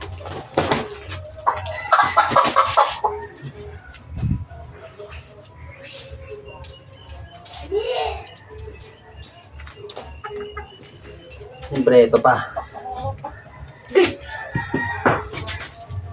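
Chickens cluck and squawk intermittently nearby while people talk, with a few louder bursts of fowl calls standing out.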